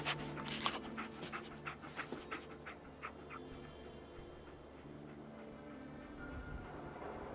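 Dogmeat, the German Shepherd companion in Fallout 4, pants close by in a quick run of breathy huffs that fade into steady rain hissing in the background.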